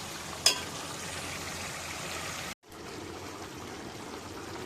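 Water pours into a cooking pot for rice, a steady close trickle and splash that runs for a few seconds, briefly cuts out, then resumes, with no talking.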